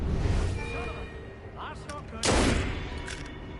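Guards firing guns in Assassin's Creed Unity, a burst of gunfire and sharp blasts with a loud shot cluster midway, set against game ambience with a voice talking over it.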